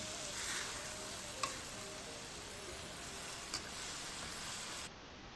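Shrimp stir-frying in a pan with oyster sauce, a steady close sizzle with a couple of faint utensil ticks, running evenly until it drops away near the end.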